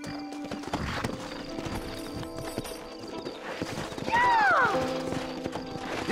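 Horses trotting in Red Dead Redemption, a steady clip-clop of hooves with a clear neigh partway through, under game ambience and a voice.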